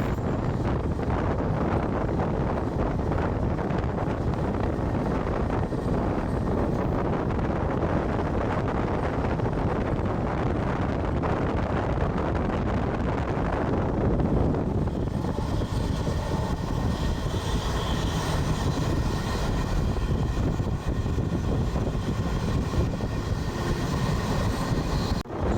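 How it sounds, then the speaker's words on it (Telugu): The Ratnachal Express, running from Vijayawada to Visakhapatnam, passes close by an Indian Railways train, giving a loud continuous rumble and clatter with strong wind rush that shifts to a hissing, rattling roar midway through. "మన జర్నీలో first cross over Ratnachal express Vijayawada నుంచి విశాఖపట్నం వెళ్తుంది"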